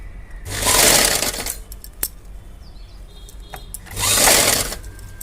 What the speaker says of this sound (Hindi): ऐसे मैं सिलाई कर रही हूँ